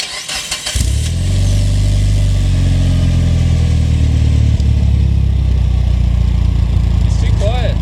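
A Mitsubishi Evo 9 with an HKS silent exhaust fires up from warm: a short cranking burst, then the engine catches into a steady, loud, deep idle that holds to the end, with a brief voice near the close.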